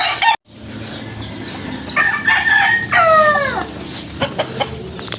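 A rooster crows loudly with drawn-out calls, while several chickens cluck around it nearby in a backyard coop, amid steady background noise.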